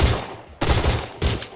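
Peacemaker revolver in the video game Surviv.io fires three loud, close shots, each a sharp crack with a short ringing tail, spaced roughly half a second apart.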